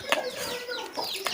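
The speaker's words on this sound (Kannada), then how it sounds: "ನಮ್ಮನೇಲಿ ಕೋಳಿ ಕಾಟ" Chickens at home cluck in short, near, repeated bursts that overlap one another, with no speech.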